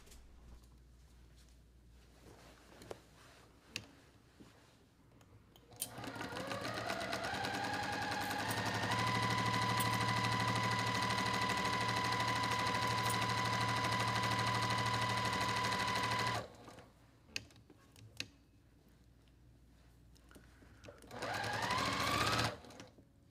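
Sewing machine stitching a quilt top, running in one long steady loud burst with a rising whine as it speeds up, then stopping, followed by a shorter burst near the end; quiet handling noises between.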